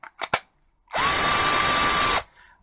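Parkside 12V cordless drill running on an A3 battery gives one steady, loud high-pitched whine of about a second, preceded by a few brief clicks of the trigger.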